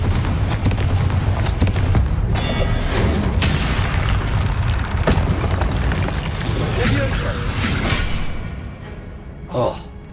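A Confringo fire spell blasts loudly in the Hogwarts Legacy video game, a long roaring boom and rumble that fills the scene before fading, with a short sharp burst near the end.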